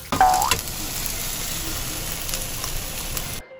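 Slices of water chestnut cake pan-fry in a hot pan, giving a steady, even sizzle with a brief louder burst of crackling at the start.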